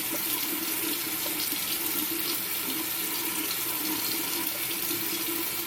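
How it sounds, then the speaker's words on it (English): Water runs steadily from a bathroom sink tap while a face is washed, a constant close splashing hiss with no talking. "Just wash my face so that area is clean."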